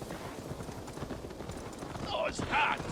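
Horse hooves clip-clopping in the video game Assassin's Creed Valhalla, a soft steady patter of hoofbeats under ambient noise, with voices briefly speaking near the end.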